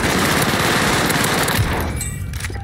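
Vargo S rifle in a video game fires a loud, rapid continuous burst that cuts off near the end, leaving a short tail with faint clicks.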